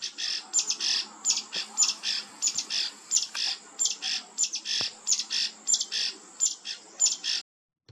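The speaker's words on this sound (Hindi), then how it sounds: "चारों तरफ चिड़ियाओं का बहुत सारा शोरगुल है और कई तरह के चिड़िया" Many birds at Kafal Hill during nesting season squawk and chirp in quick, repeated bursts, fairly loud and close, with a continuous chorus and no voices.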